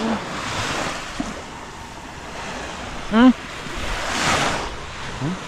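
Sea waves wash and splash against a small boat out at sea, a steady, moderately loud surging with wind noise and one short vocal chirp midway.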